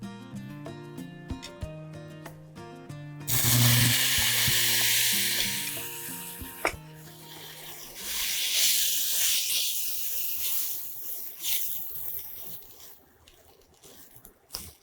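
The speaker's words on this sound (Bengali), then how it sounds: "এখন আমি হালকা একটু দুধ দিয়ে দিব।" Milk poured into a pan of frying vermicelli (semai) bursts into a loud hissing sizzle that swells, fades, then rises again with stirring scrapes, after a quieter stretch at the start with background music.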